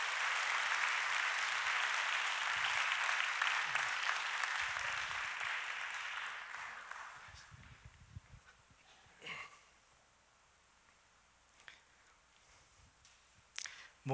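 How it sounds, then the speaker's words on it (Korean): A church congregation applauds in encouragement for an elder. Loud, dense clapping fills the first several seconds, then fades and dies away into a quiet room with scattered faint knocks and clicks. "한번 격려의 박수 한번 하겠습니다."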